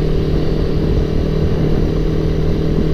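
A motorcycle engine runs steadily and close on a dark road in Batam at night, a continuous low droning roar with little change in pitch, heard alone.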